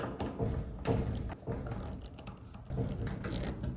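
A nut on the terminal post of a dryer power cord is tightened, giving close, quiet clicking and ratcheting mechanical noises in an irregular rhythm, with no talking.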